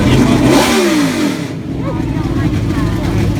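A NASCAR race car engine revs loudly at Daytona International Speedway, a roaring burst that fades after a second and a half into crowd noise and people talking.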